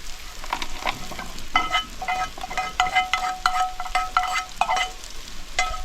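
Roasted coconut pieces fry in a pan for a homemade chicken curry, crackling steadily while a utensil scrapes and stirs in irregular bursts, close and fairly loud.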